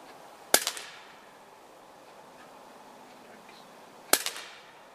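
Two sharp gunshots fired at a shooting target, loud and close, spaced about three and a half seconds apart, each followed by a short echoing tail in a quiet outdoor setting.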